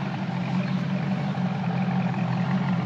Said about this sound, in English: Great sound coming out of the dual exhaust.